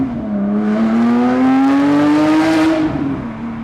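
A Porsche 997.2 GT3 RS accelerating hard to 60, its flat-six engine rising in pitch with a loud, strained rasp that climbs steadily through a gear, heard close from inside the car before easing off at the end.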